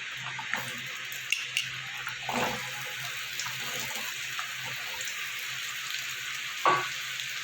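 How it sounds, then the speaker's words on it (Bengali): Cut potatoes hitting hot oil produce a faint, low sizzle with a few light clinks and stirring knocks, close but quiet, with no voices. "কেটে রাখা আলুগুলো আমি এবার দিয়ে দেবো। তেলটা আমার গরম হয়ে গেছে।"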